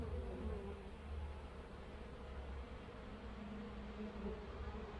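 Honeybees at queen mating nucs make a steady, close, continuous buzzing hum that holds at even loudness throughout, with no talking.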